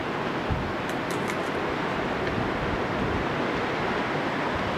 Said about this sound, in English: The wind, it's really gusty out on the beach.